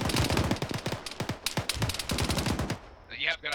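Rapid bursts of automatic gunfire from a military video game crackle loud and close in a dense, stuttering stream, with scattered single shots and a brief pause near the end.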